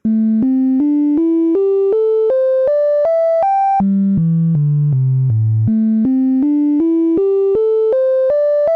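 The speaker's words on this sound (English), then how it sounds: "if I play this sequence I've got just with the default sine wave" A pure sine-tone sequence on a Korg Wavestate synthesizer steps upward note by note, drops low, then climbs again in an even, steady rhythm, loud and clean.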